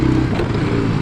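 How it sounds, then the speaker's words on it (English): A four-wheeler ATV engine revs loud and close, a dense, rough, continuous mechanical roar throughout the short burst. "This four-wheeler feels so small compared to the old 350."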